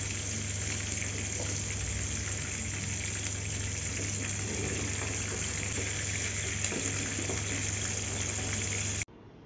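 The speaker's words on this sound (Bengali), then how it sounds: "এই তো আমি ভাজছিলাম, মুরগিগুলো খুব ফুটছিল" Chicken pieces frying in hot oil for a chicken roast give a steady, close, dense sizzle with a low hum beneath, running unbroken for about nine seconds before cutting off abruptly.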